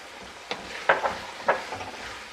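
Spice powder being stirred into a pumpkin pickle gives a few soft scraping strokes in a quiet kitchen, three or four brief clusters spaced about half a second apart over faint background hiss.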